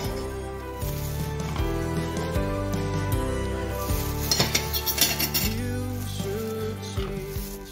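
Scraps of orange peel set onto a waste plate with clinks and scrapes of cutlery and dishware, accompanied throughout by steady background music.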